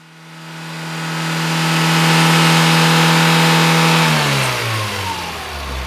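An Austin A-Series engine with an SU carburettor revs up smoothly during tuning, holds a loud, close, steady high drone for a couple of seconds, then falls back as the revs drop.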